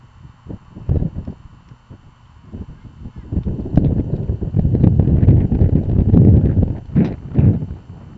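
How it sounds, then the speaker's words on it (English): Strong wind buffets a microphone outdoors at an amateur cricket match, a rough, rumbling roar that swells and gusts steadily louder with no voices. "It's a very windy day today"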